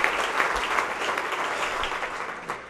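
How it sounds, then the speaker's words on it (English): A room full of people at a healthcare awards event claps steadily, a dense patter of applause at moderate volume lasting a few seconds. "First of all, I'd like to say just a quick round of applause for Jonathan."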